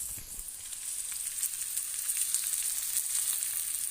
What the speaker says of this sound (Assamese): এতিয়া মাছ ভাজিছোঁ